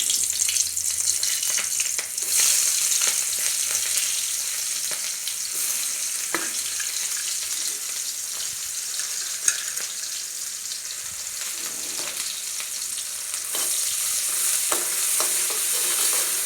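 Onions fry in a pan, then bamboo shoots are tipped in and stirred, giving a continuous close sizzle with light scraping and clinks over a steady hiss.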